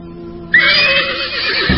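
A horse pulling a cart lets out a loud, near whinny that rises sharply and trails off, with a low thud at the end, over a dim background tone.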